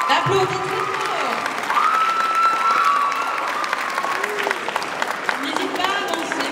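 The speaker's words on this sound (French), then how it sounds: "Applaudissez fort." An audience at a manga festival cosplay contest applauds and cheers steadily while voices and music carry over the clapping.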